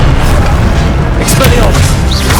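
An Incendio fire spell blasts during spellcasting combat in Hogwarts Legacy: a loud, dense burst with a deep booming low end and crackling hiss, sustained and busy throughout, with other effects and a voice mixed in.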